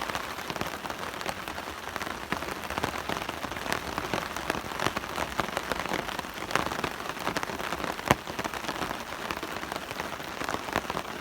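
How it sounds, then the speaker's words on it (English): Rain falls steadily in a New South Wales state forest, a dense continuous patter of drops on leaves and gear with occasional louder splashes, close and even throughout with no speech. "I'm standing in rain"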